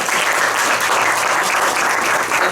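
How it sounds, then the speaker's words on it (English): Applause from the audience at a theological forum: a continuous, full burst of many people clapping, even and close, with no pause across the moment. "Let's clap for him once more."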